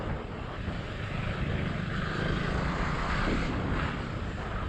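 A Husqvarna motorcycle on the move, its engine blending into a steady, loud wind-swept roar that holds constant throughout with no talking.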